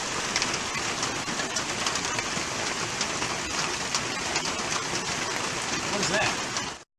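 Steady, dense rain pours down close by, an even hiss of drops hitting surfaces that continues without a break, with a voice speaking faintly beneath it before it cuts off abruptly.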